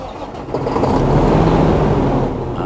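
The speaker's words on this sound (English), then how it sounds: "As he started the truck" A truck engine rumbles to life and settles into a steady, close, low idle for a few seconds, loud and continuous, with no voices over it.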